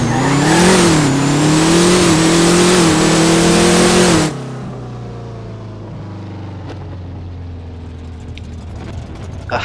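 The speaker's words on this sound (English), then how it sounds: "I think we did a decent burnout." Car doing a burnout: a loud, close engine revs hard with wavering pitch for about four seconds, then drops abruptly to a lower sustained drone that fades while the engine idles on.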